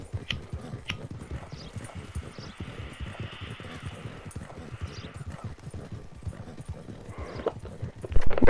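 Horse hooves clip-clop in a steady walking rhythm, close and moderately loud, with a faint hum underneath and a brief louder burst at the end, in the video game Red Dead Online.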